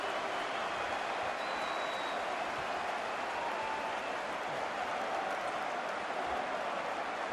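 Football fans in the stadium at the Liverpool versus Manchester City Community Shield, a steady distant crowd roar with cheering and applause, even and sustained throughout.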